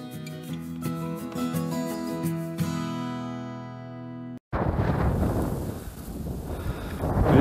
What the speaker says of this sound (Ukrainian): Дує вітер, такий явно метрів 10-12 за секунду.